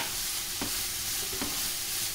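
Chopped cabbage for veg momos being sautéed in a pan, a dense steady sizzle with two soft stirring scrapes.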